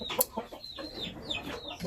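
Japanese Shamo chickens of a Gohan DBC breeding line cluck in a few short, close bursts, with one brief sharp squawk near the start and softer calls trailing after.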